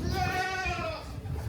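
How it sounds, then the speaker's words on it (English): Goats bleating in Bikaner, India, a drawn-out, wavering bleat rising clearly over a continuous low rumble of crowd and street noise, with more animals audible in the background. "There are a lot of goats here."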